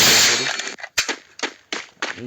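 Gunfire in the mobile game Free Fire: one sharp burst followed by four quick single shots in an uneven rhythm, loud and close, with a voice speaking briefly alongside.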